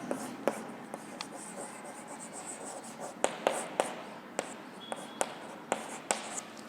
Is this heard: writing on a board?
yes